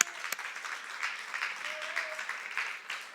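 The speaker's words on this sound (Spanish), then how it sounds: "Eso merece un aplauso" A church congregation claps during a worship service, a soft, fairly distant patter of applause with a faint voice briefly audible underneath.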